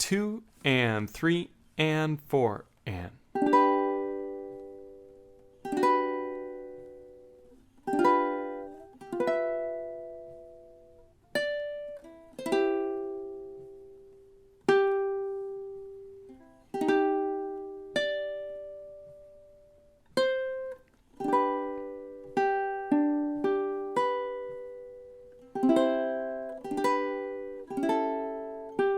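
Ukulele strumming and picking measures 9 through 16 of a song in steady time, with a spoken count-in before a series of clear, evenly spaced chords and plucked notes ringing out and decaying.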